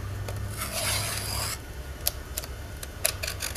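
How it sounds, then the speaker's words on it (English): A razor blade scrapes across the deck of a Subaru EJ22 engine block, a close rasping stroke followed by a few short sharp scrapes and clicks, no voices. "Make sure our deck is clean. I mean, just a simple razor blade does the trick."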